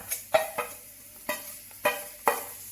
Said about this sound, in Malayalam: അതിലേക്ക് നമുക്ക് ഈ ചെറിയ ഉള്ളി ഈ സവാളയുടെ ചെറിയൊരു സവാള എടുത്തിട്ടുണ്ട് അതും കൂടി ഒന്ന് വഴറ്റിയെടുക്കാം